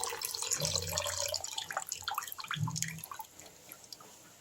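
Tamarind water poured into a pot of cowpea rasam in a home kitchen, a splashing liquid pour with drips and trickles, close and moderately loud, fading to light dripping at the end.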